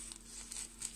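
A short length of tape being peeled from its backing, a brief crinkly tearing rustle, close and quiet, with a sharper crackle at the end.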